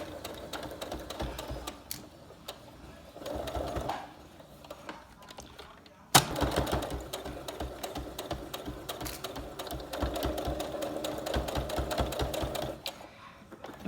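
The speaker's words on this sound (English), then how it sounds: "Now we're going to stitch these pleats and staying fairly close to the edge" A sewing machine stitches down the pleats of a fabric face mask near the edge, its needle running in a fast, even rhythm over several bursts with a brief break, moderately loud with faint talk beneath.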